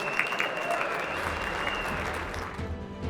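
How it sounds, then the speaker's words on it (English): Sustained, dense applause from a crowd honoring the top 10 finalists at the final table of the 2024 National Horseplayers Championship, steady and fairly loud for about three seconds before easing slightly. "One more round of applause for the top 10 on the final table."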